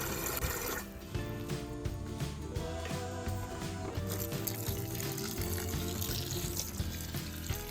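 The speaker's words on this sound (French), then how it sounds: "il ne faut pas oublier de bien les arroser, au moins un bon arrosoir d'eau" Water from a watering can poured over endive roots, a steady close splashing and trickling stream that continues unbroken, with no voices.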